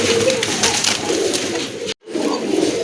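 Pigeons coo steadily and close by, likely Indian Lotan and other fancy pigeon breeds kept at a bird sale, with a brief dropout near the end before the cooing resumes.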